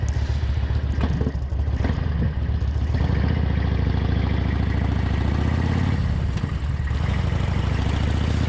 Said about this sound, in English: I start up the engine after the train has completely cleared the tracks